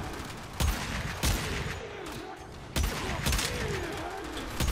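Gunfire in the video game Warframe: several loud, sharp bursts of shots cracking out at irregular intervals over a continuous background of game noise.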